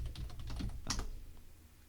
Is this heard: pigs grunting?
no